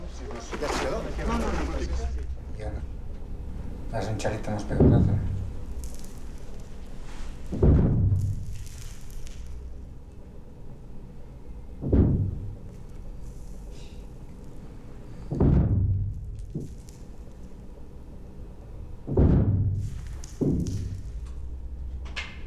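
Deep, muffled booms of blasting charges in a mine go off one after another, about five or six spaced a few seconds apart, rolling out over a dull continuous rumble, heard from a distant shelter.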